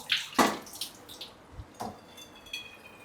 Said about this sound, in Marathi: कैऱ्या डूब असतोपर्यंत पाणी भरायचं आपल्याला